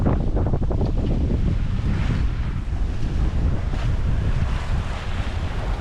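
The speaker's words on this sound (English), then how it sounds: "See some decent sized waves coming by us." Steady rushing wind buffets the microphone while ocean waves surge and wash past a sailboat on a beam reach in rough open water between Caribbean islands, loud and continuous with no voices.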